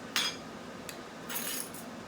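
A spoon clinks and scrapes against a bowl while stirring salt into Hollandaise sauce for eggs Benedict, giving a few light metallic taps close by.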